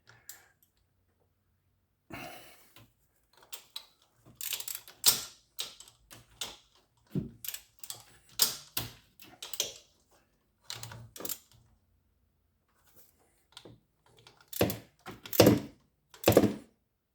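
Drive shaft bolts on a Butler front drive shaft being snugged with a wrench: scattered close metallic clicks and knocks in irregular bursts, with quiet gaps between them.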